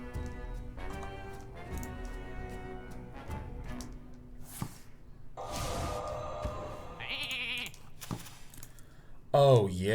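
Sheep bleats from the card game Hearthstone, a wavering cry near the end, amid game music and effects with someone talking over much of it.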